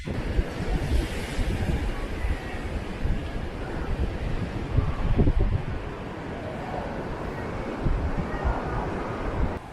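Surf washing into a small rock cove beach in Bali, a continuous rough rush of waves mixed with heavy wind buffeting the microphone, no clear talk.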